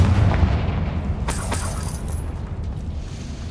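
A Confringo fire spell explodes in Hogwarts Legacy, a dense low booming rumble with a couple of sharp crackling bursts, rolling on and slowly fading over a few seconds.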